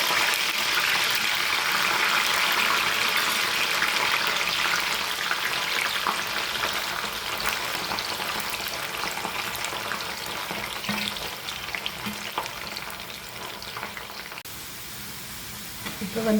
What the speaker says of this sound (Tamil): இப்போ இந்த ஃபிஷ்ஷை பொரிச்சு எடுக்க போகிறேன்.